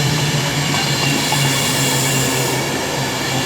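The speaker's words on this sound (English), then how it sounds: "So yeah, we have 2 Pendolinos here." A Pendolino train at Birmingham International station gives a loud, continuous rumble of rolling carriages with a steady electric hum.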